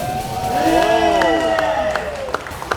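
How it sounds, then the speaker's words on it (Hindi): A party audience bursts into applause and cheering. Loud, dense clapping mixes with whoops and a rising and falling tonal sweep, and the sound stays steady throughout. "गाइस, ताली तो बजा दो।"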